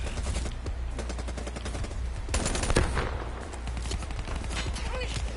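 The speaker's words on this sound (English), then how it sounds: "I shot half my bullets and I wasn't able to kill him." Dense, continuous automatic gunfire from a video game shooter, with overlapping bursts and shots at close range and a louder cluster partway through, with no speech.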